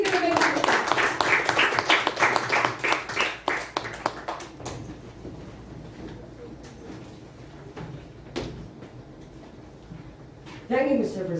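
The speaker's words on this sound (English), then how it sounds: "Please give a big round of applause." Audience at a youth leadership event gives a round of applause, a dense burst of many hands clapping for about four seconds that fades into room noise, with speech following.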